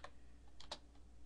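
Faint computer keyboard typing, a few soft, quick key clicks in a short irregular burst over low steady room hum.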